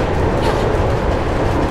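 A train rumbles steadily in the Mirror's Edge video game, a loud, continuous broadband roar with rolling rail noise throughout.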